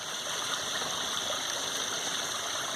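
Water flows steadily in a backyard stream, a continuous close rushing wash with no pauses and no voices.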